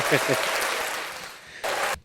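Applause sound effect played during a podcast, a broadband burst of clapping running steadily for about two seconds at moderate loudness, with a short pause near the end before it resumes.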